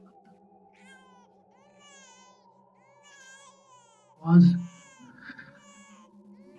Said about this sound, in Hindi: रोने की आवाज इतनी